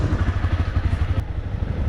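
Honda CBR 300R motorcycle setting off on a ride: a close, loud low engine thrum with rapid pulsing exhaust beats and some clatter, steady throughout with no talk.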